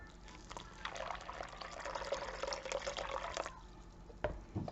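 Turkey drippings pour in a thin liquid trickle into cornbread dressing, quiet and close, running for a few seconds and then ending with a couple of soft drips and clinks.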